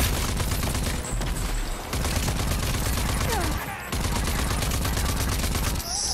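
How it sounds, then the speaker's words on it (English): Loud, dense gunfire from the video game Rage 2: rapid overlapping bursts and volleys keep going almost without pause, with short breaks near the start and middle before the shooting resumes. "Stop shooting at me."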